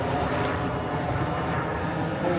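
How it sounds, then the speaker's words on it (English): A sheriff's police helicopter drones steadily overhead, its loud engine roar continuous and unbroken throughout, with no voices. "Got looks like a police helicopter now."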